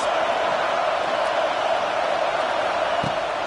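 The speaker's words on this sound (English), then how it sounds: "Listen to this crowd just shaking the girders of this place, trying to help their defense." In the College Football 25 video game, a stadium crowd gives off a continuous, dense roar of cheering, steady and enveloping with no breaks.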